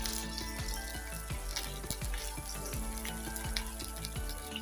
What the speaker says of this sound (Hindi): 4 लौंगे और 10-12 काली मिर्ची छोटी। 30 सेकंड तक फ्राई करेंगे ताकि तेल में खुशबू रस बच जाए।